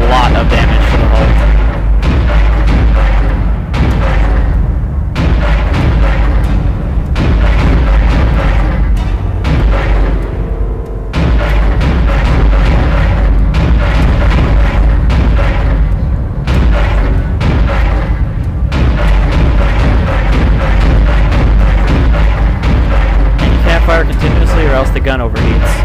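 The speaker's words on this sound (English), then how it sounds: "cannon's a mass driver, so it should punch through anything flying at us" A mass driver cannon fires continuously at incoming asteroids in the Dead Space video game, producing dense, loud repeated booms over a low rumbling bed throughout.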